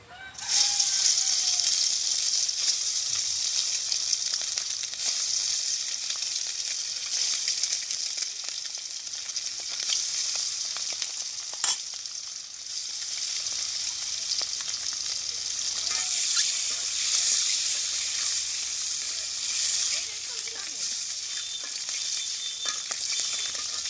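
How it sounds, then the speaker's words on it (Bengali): An egg crackles and spits in hot oil in a wok over a long stretch, a dense, steady sizzle close by with only faint background noise and no talk. "কড়াইতে তেল দিয়ে গেছি কড়াইও গরম হয়ে গেছে আমি এখন ডিমটা বাজি করে নেব"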